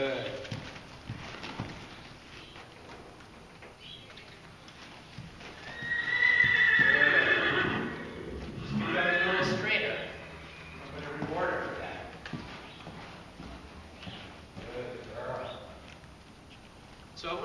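A horse being backed up on the ground steps its hooves in a steady series of dull clip-clops under a person's instructing voice, with a louder stretch midway.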